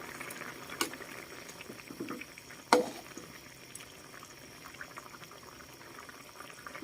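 A northern Thai eel curry simmers in a covered pot, giving a faint, continuous low bubbling with a couple of brief clanks and knocks partway through.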